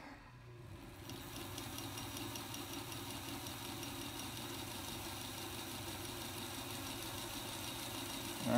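An antique 1920 Singer Model 127 sewing machine, freshly overhauled, winds a bobbin with the winder tire pressed against the wheel. It gives a smooth, continuous mechanical whir with a fine rapid rattle that starts after a brief quiet moment.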